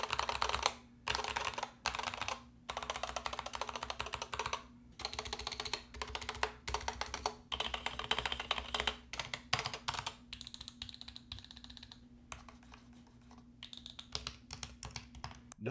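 Typing on a Corsair K70 Max mechanical keyboard, fitted with foam inside, produces close, crisp rapid keystrokes in irregular bursts separated by short pauses, heard alone without talking.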